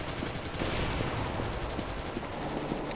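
Rapid bursts of gunfire in CS:GO crackle and pop continuously, dense and loud, with a steady noisy background throughout and no voices.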